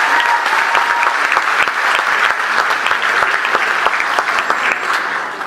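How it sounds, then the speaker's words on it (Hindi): An audience at a Hindi comic poetry gathering (hasya kavi sammelan) breaks into loud, dense clapping that holds steady throughout, with a few faint voices mixed into the crowd. "तालियां बजाकर मुझे बताओ।"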